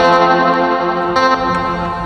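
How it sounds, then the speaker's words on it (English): A Roland TB-303 style bass synth line played through reverb on an SP-404 MKII, a dense harmonic buzzing tone with a lingering wash, steady and loud throughout with no talking. "See if I don't put the 303 and then some reverb."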